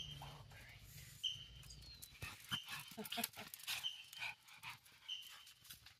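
Puppy playing and panting indoors with another dog, quick soft pants and small whimpers, close by and fairly quiet, with light shuffling.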